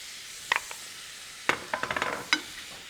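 Cheese, egg and cream mixture being stirred into carbonara pasta, a few soft wet scrapes and clicks of mixing, close and quiet, with short pauses between strokes.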